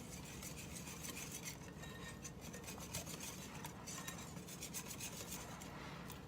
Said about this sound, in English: just give that a mix